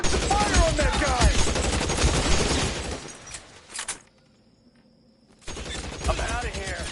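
Gunfire in the L.A. Noire video game: bursts of shots crackle densely under game voices and a noisy mix, break off into near silence for about a second and a half, then return.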